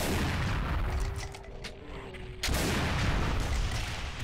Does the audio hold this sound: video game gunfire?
yes